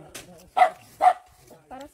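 A dog barks twice in quick succession, loud and close, with a third softer yelp after, at a family mountain outing with a grill; people talk briefly around the barks.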